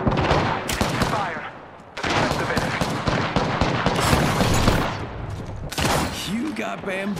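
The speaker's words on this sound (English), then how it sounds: "I'm taking fire." Rapid bursts of automatic gunfire in the Apex Legends battle royale game, dense volleys and single shots firing almost continuously and loud, with a game voice briefly calling out over the shooting.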